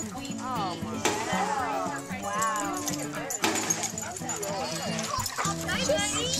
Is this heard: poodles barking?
yes